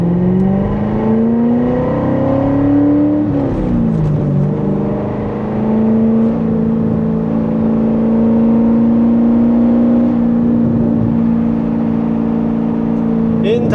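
A C7 Corvette engine accelerates onto a highway, a loud droning exhaust note rising in pitch, dipping at a gear change, then holding a steady cruising hum inside the cabin.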